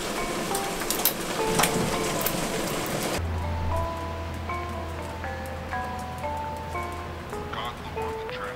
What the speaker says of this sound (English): Cloudy, rainy days.